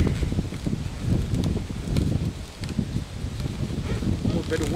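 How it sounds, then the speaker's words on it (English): Wind gusts outdoors in Wyoming, a steady rushing buffet with low rumble and mic noise, swelling and easing over a few seconds with faint rustling. "A little bit of wind coming up."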